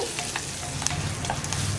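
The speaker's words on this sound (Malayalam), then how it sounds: "ആ ചട്ടിയുടെ ചൂടൊന്ന് കുറഞ്ഞ് വരുന്നത് വരെ നമ്മളൊന്ന് ഇളക്കി കൊടുക്കുക" Buttermilk curry (moru curry) being stirred in a hot clay pot after the flame is switched off: a steady, close sizzle with soft scraping stirs running throughout, and no talking.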